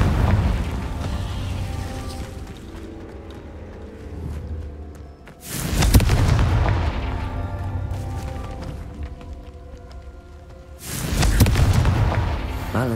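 Two loud booming fire-spell blasts from the Confringo charm in Hogwarts Legacy, each a sharp burst decaying into a rumbling roar, over a continuous game soundscape of music and ambience.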